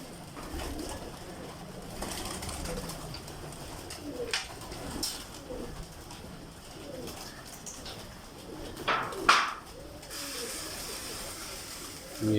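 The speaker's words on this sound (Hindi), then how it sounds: "ये स्लेटी बिच्छू कबूतरों का केज है।" Slate scorpion pigeons coo inside a loft cage, soft repeated low coos over a steady murmur of bird noise, with a brief flutter or splash near the end.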